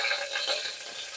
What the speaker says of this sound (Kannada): ಸಾಸಿವೆ ಚಿಟಿಕಿದ ನಂತರ ಅದಕ್ಕೆ ಕಡಲೆಬೇಳೆ ಮತ್ತು ಕರಿಬೇವಿನ ಸೊಪ್ಪನ್ನು ಹಾಕೊಳ್ಳೋಣ